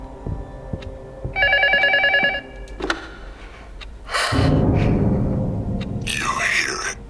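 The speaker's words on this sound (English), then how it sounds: "phone keeps ringing" In the horror video game LUTO, a telephone gives one warbling electronic ring early on, followed by a thud, then heavy rumbling and noisy bursts, with a voice talking.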